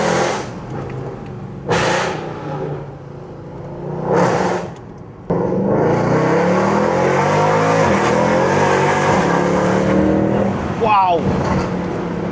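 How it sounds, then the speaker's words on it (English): Loud Mercedes C63 AMG engine fitted with aftermarket headers, revving hard with sharp bursts and roaring exhaust as it shifts down, close by, with people talking in between. "The downshifts are brutal."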